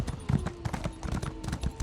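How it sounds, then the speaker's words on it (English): Horse hooves clip-clop at a steady trot in The Elder Scrolls Online, a close and fairly loud rhythmic beat of repeated impacts. "My horse is picking up a little speed lately."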